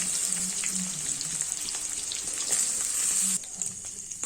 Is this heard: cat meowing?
no